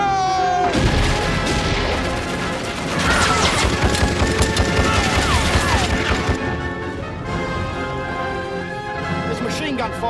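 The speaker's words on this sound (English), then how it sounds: "There's machine gun fire from the Turkish left." Rapid machine gun fire in a desert battle against Turkish forces, a dense, continuous clatter of bursts and crashes filling the whole stretch, loud and close, with shouting voices mixed into the din.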